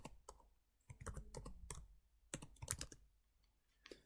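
Fingers type on a computer keyboard in irregular clusters of quick clicks with short pauses between them, faint and close, with no talking.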